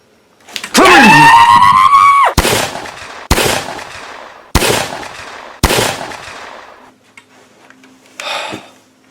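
Zapper gun effect in a cartoon: one long rising electronic zap followed by four sharp, loud bursts in even succession, then a short faint buzz near the end.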